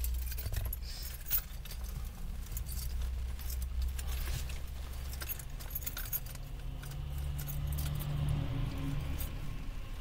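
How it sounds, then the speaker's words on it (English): Keys jangle and clink at a low level over the steady hum of a car interior, a continuous faint metallic rattle with no talking. "Only thing I'm taking in is keys."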